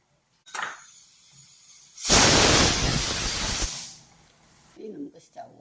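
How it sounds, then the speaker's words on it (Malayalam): Pressure cooker whistle from cooking salted vegetable pieces: a loud, steady hissing blast of steam lasting nearly two seconds, with brief handling noises before it and a short voice after. "ഉപ്പിട്ടിട്ട് ഒരു വിസിലൂടെ കേൾക്കണം"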